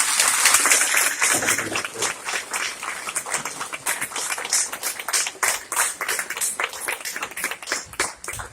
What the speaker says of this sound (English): Let's give all of these veterans a round of applause.